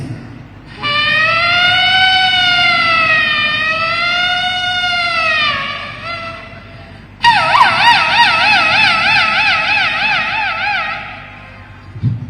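A mimicry artist at a Kerala state school arts festival imitates a speeding ambulance siren with the voice, giving a long wailing sweep, a short break, then a louder rapid warbling siren that fades away.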